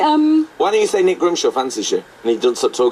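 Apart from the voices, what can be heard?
No distinct noise like a dog, phone or traffic.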